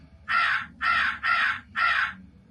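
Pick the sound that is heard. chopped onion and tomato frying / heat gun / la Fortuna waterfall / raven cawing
raven cawing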